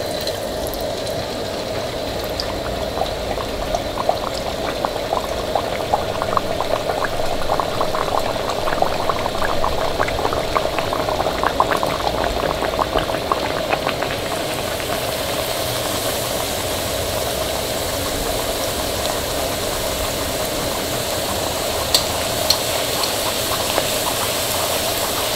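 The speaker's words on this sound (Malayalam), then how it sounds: "ഇത് വറുത്തെടുക്കാനുള്ള ഓയിൽ നന്നായിട്ട് ചൂടായിട്ടുണ്ട്." Pieces of spicy teatime snack dough fry in hot oil, giving a loud, continuous sizzle and crackle with many fine pops that holds steady throughout, with no voices.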